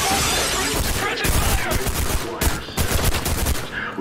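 Rapid bursts of gunfire in the video game Trepang2 pound without a break, loud and dense, with sharp clustered shots and crashing impacts.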